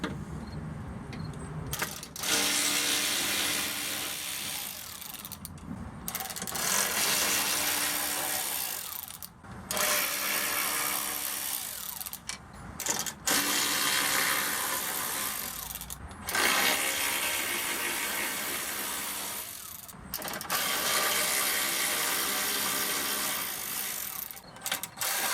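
A hand ratchet clicks in repeated bursts while backing out bolts from a body panel on a 1992 Oldsmobile Toronado Trofeo, each rapid run of metallic pawl clicks broken by short pauses, close and fairly loud.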